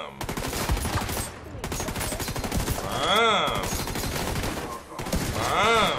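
Rapid automatic gunfire from the video game The Division 2, loud sustained bursts of shots with brief pauses, continuing through the whole stretch with sharp booming impacts.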